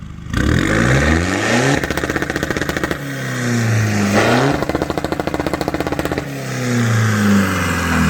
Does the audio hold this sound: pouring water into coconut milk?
no